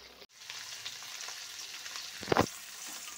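Bitter gourd stir-fried in a pan with five-spice, sizzling steadily and close, with a brief clatter of stirring partway through; no talking.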